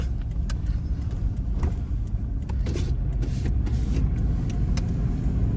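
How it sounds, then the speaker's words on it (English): A loud vehicle engine rumbles steadily throughout, a heavy low drone with no talking over it. "truck is definitely not getting quieter"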